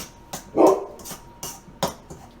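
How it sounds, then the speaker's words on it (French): A large family dog barks in a home kitchen, giving about five loud, close barks in an uneven rhythm, one of them longer and deeper than the others. "c'est le gros Ben qui nous dérange. Tiens, montre-leur donc, c'est qui le gros Ben? Benji, le chien familial"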